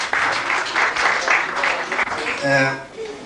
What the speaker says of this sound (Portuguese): Uma salva de palmas para quem fez a pergunta.